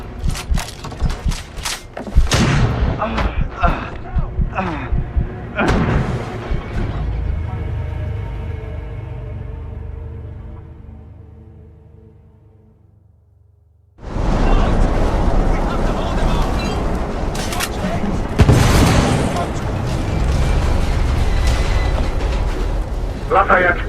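Explosions tear through a ship in the video game The Order: 1886, a heavy booming blast that rumbles and fades to near silence before another loud, sustained roar of destruction and debris erupts.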